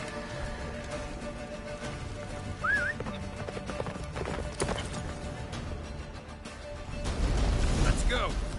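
Roach, a horse in The Witcher 3, gallops with steady clip-clop hoofbeats and a brief whinny, under battle noise, rumbles and distant shouting.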